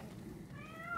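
Single soft meow from a calico cat in Rise of the Ronin, rising near the end of a brief moment over low, steady game ambience.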